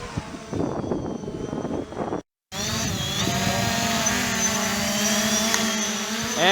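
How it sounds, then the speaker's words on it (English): A Holy Stone HS700D drone spins up for a one-key takeoff, its steady high-pitched motor whine starting abruptly after a brief silence and holding loud and close, with the pitch shifting slightly as it lifts. "Now I'm just going to use the 1-key takeoff."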